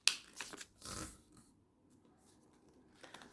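Sheet of paper for an origami butterfly folded corner to corner, giving a few soft, quiet crinkly rustles and one brief louder crease sweep, with no voices.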